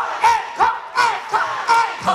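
A festival crowd at the Yangchon dried persimmon festival cheers and shouts for a trot singer in a dense, boisterous wave, with rhythmic bursts of yelling every half second or so over steady crowd noise.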